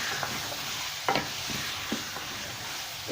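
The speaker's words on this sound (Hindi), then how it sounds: "आलू, गोभी और मटर ये मैंने डाल दी। अब इसको हम थोड़ा सा इसके साथ भून लेंगे।" Keema with potato, cauliflower and peas being stir-fried in a pan, a steady soft sizzle with a few scraping clinks of a spoon stirring through it, close and moderately loud, with no voices.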